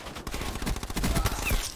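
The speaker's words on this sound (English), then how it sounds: "That little laser shot." Rapid shots from a laser gun in a first-person shooter, a burst of quick crackling pops fired in tight succession, loud and close.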